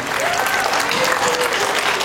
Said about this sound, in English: Nora Feldman, let's give her all a round of applause.